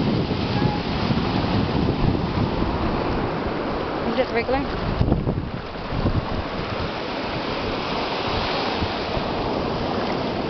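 Surf washes steadily onto a beach while hunting sand fleas, a constant broadband roar buffeted by wind on the microphone, with brief talk partway through.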